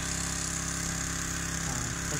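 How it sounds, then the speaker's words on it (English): A pressure washer cleans farm equipment, a corn head and tractor, with a steady, loud engine-driven drone and high hiss running continuously without pause, no voices. "my dad's pressure washing the tiny leader before we put it away"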